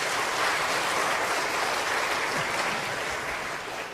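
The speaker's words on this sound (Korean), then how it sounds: "박수 한번 주셔야죠" A hall audience gives steady, sustained applause for a speaker's wife during a Korean talk, a continuous wash of clapping that eases slightly toward the end.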